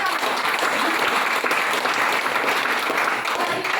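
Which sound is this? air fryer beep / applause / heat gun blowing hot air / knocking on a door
applause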